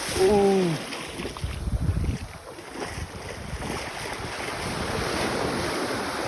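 Ocean waves wash and hiss over steady wind buffeting the microphone, with a brief voice-like tone at the start.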